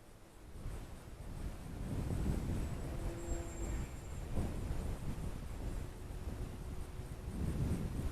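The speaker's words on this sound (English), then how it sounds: "it really seems like I have more wind now than I had the other day" Wind gusting outdoors at an RC flying field, buffeting the microphone in low rumbling surges, fairly faint and steady with swells of stronger gusts.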